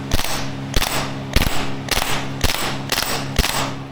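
Maruyama SPC-9 gas blowback airsoft rifle firing on auto: sharp, loud reports come in a steady series of about seven, roughly every half second, each with a short mechanical clack and no voices.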